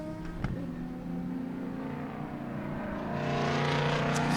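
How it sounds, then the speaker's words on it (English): Loud race cars roar at Sebring International Raceway during a Big Bore race, a distant engine drone that swells and grows louder toward the end, with no talk. "Those are some loud race cars."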